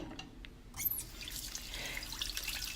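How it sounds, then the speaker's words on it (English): Raw chicken breast is rinsed under running tap water in a sink, a soft close splashing and trickling with a few drips near the start and a fuller stream after. "Run it through water."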